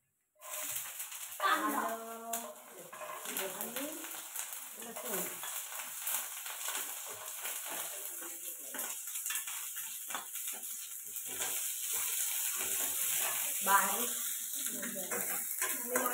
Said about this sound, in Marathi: आता याच्यामध्ये आपण काय कांदा खोबरं भाजून घेणार ना